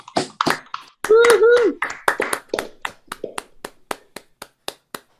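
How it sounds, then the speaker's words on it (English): Online audience applauding after unmuting, a burst of sharp claps with a brief voice at the start, then thinning into scattered separate claps. "give a big round of applause for everybody who competed today"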